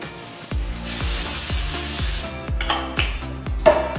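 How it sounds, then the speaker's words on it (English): Cooking spray hisses in several short bursts into an 8x8 cooking dish, close up, each spritz with a faint rattle of the can between. "I'm gonna spray it with cooking spray"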